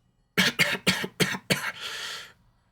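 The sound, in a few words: cough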